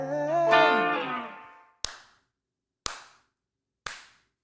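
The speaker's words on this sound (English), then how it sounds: "Just giving a little clap up." A sung or hummed vocal phrase fades out, then three single hand claps follow at even intervals, sharp and close.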